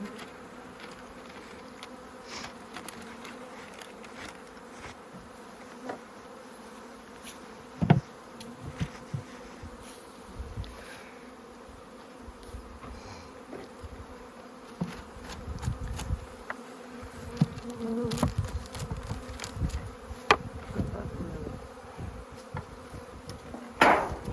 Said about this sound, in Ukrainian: Як бджол витрусити.